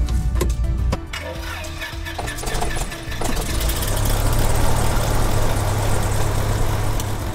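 A light training airplane's engine cranks with a few sharp knocks, catches, and settles into a steady, loud idle that drones on close by.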